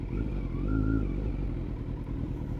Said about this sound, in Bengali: তো প্রথমবার লাইফে সুপার বাইক চালাচ্ছি।